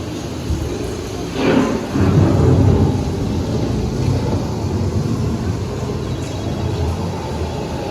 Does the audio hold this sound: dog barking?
no